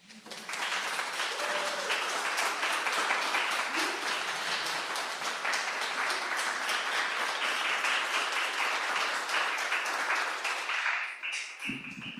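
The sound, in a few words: audience applause at poetry reading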